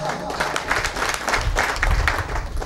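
Crowd applause at a school inauguration for three new classrooms in Caserío Tuixcum, Tajumulco, with steady clapping mixed with crowd noise and some voices throughout.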